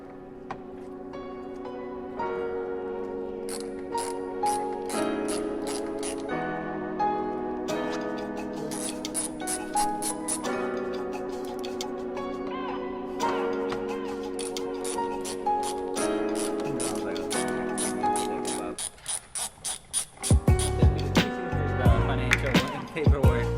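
A ratchet wrench clicks steadily while backing out two 10mm bolts on a 2020 Toyota 4Runner TRD Pro, close and rhythmic in long runs, followed by a few heavier knocks near the end.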